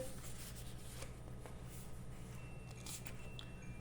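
A deck of illustrated soulmate-message cards is handled close up, with soft rustles, riffles and scattered light papery slides, faint and quiet, and no talk over them.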